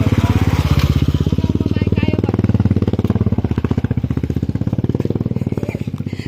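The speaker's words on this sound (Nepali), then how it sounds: "बाइक आयो है बाटो बाइक आयो हाम्रो बाटो छेक्नु पर्दैन।" A motorbike engine on a village road, its rapid steady put-put loud and close throughout the pass.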